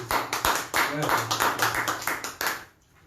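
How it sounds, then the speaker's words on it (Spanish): At a lecture, an audience gives brief, uneven applause to welcome a speaker. A few distinct claps stand out close by, and talk overlaps the clapping before it fades. "Lo recibimos con cálidos saludos y aplausos de parte de ustedes."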